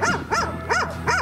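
A shelter dog out on a walk gives four loud, evenly spaced barks close by, in a steady rhythm.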